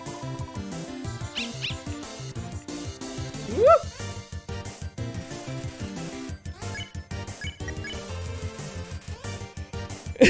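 A dog's excited yips and little noises, a sound effect from the Undertale video game, chirp over continuous game music.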